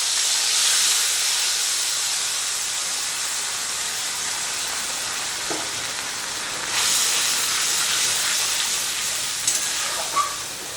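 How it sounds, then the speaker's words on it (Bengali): Cumin, ginger paste and green chili paste dropped into hot oil for a vegetarian doi potol curry, giving a steady loud sizzling hiss throughout with a brief surge partway, no talk. "এবারে এর মধ্যে দিয়ে দিচ্ছি জিরে, আদা বাটা আর কাঁচা লঙ্কা বাটা"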